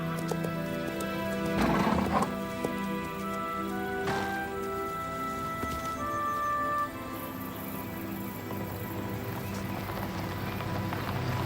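Horses at a country estate in the north, hooves clip-clopping and a horse neighing amid layered background music and ambience, moderately loud throughout.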